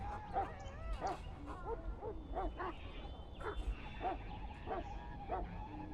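A Mabari hound in the Dragon Age video game gives a series of rhythmic barks and yips, roughly one or two a second, over quiet game ambience.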